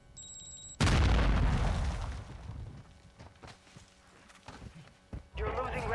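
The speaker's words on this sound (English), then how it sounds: "Throwing grenade." A grenade thrown in the shooter game Warzone 2.0 on Ashika Island detonates with a sudden loud, heavy blast that rumbles and decays over several seconds, followed by scattered impacts and gunfire-like cracks, with game voice chatter over the top.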